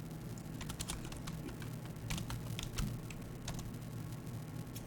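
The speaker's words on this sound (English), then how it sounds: "let me type man facal" Keystrokes on a computer keyboard typing a Linux man page command, a quick irregular patter of fairly faint clicks over a steady low background hum, with no talking.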